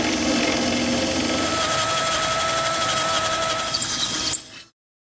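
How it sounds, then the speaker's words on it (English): A power drill bores through a vehicle's steel frame during a Roadmaster direct-connect base plate install, a continuous grinding whir for about four seconds before it abruptly stops. "So now that we have our holes drilled through our frame here"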